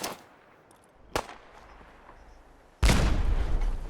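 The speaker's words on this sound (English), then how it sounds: "Okay, I just wasted 2 grenades and didn't even kill a thing." Explosions and gunfire sound in a shooter video game. A sharp blast is followed by a quieter stretch, then a loud, sustained burst of booming fire, with no talk.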